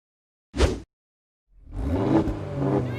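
In a drag race, a BMW M8, a Ferrari, a Nissan GT-R and a Porsche launch. A short sharp burst gives way, after a brief silence, to a rising, sustained roar of engines accelerating away.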